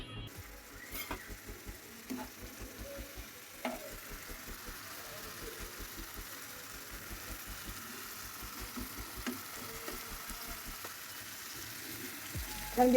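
Onion and garlic paste cooks down with mixed spices, turmeric, salt, red chili powder and a little water, a faint low sizzle under a soft regular ticking and occasional scraping clicks, quiet throughout.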